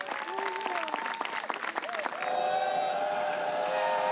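Crowd at a disc golf tournament bursting into applause and cheering, a brief spoken voice over the first couple of seconds, then sustained clapping and whoops, fairly distant and steady.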